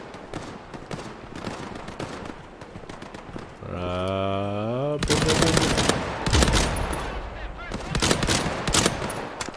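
Rapid bursts of gunfire from a powerful gun in a first-person shooter video game crack repeatedly throughout, with a brief rising tonal game sound partway through and dense overlapping shots afterward, loud and close.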